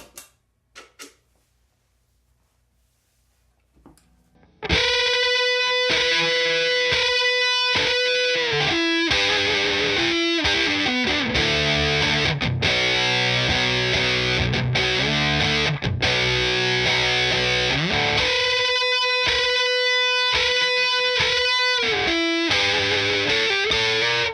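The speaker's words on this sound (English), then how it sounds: "And we'll change her over to the Vintage Distortion" Electric guitar through a Vintage Distortion pedal setting, entering after a few seconds of near silence with faint clicks, then loud, continuous distorted chords and riffs, no voices.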